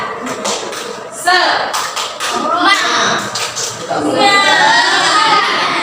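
Children in a classroom perform a rhythmic spirit clap, bursts of close, sharp claps in short patterns, with young voices chanting and talking over and between them.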